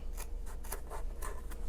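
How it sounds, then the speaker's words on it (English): Scissors sliding along a cardboard edge to cut yarn strands for a fringe, a series of short scratchy rasping snips in an uneven rhythm, close and quiet with no talking. "slide the tip of my scissors along the edge of the cardboard"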